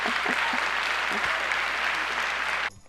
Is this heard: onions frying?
no